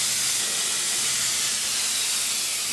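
A powerful air blower roars at full force, a steady broadband hiss that stays loud and unbroken throughout.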